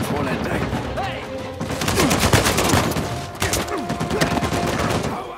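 Bursts of automatic gunfire and rapid shots in the video game Uncharted 4, loud and dense, with a brief lull in the middle before heavy firing resumes alongside grunts and game sound effects.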